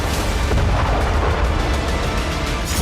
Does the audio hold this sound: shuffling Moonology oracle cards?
no